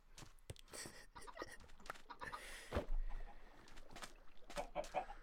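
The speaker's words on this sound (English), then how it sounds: "why do you have a chicken on a lead?" Chicken on a lead in a video game, clucking in short bursts while people talk over it.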